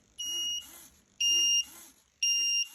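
Electronic alarm clock buzzer sounding in three loud, evenly spaced beeping bursts with short pauses between them, each a steady high-pitched tone.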